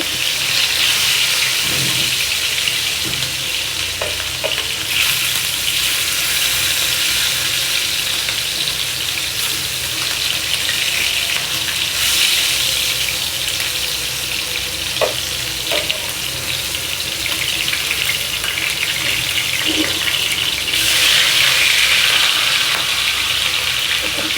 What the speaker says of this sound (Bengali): এবার হচ্ছে মাছের এই পাশ ভাজা হয়ে গেছে ওই পাশটা উল্টে দিচ্ছি